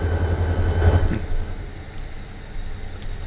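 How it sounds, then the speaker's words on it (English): A coal train rumbles along the rails, a low steady rolling drone that swells briefly near the start and then settles into a quieter continuous hum, with no talking. "He's sitting behind the coal train."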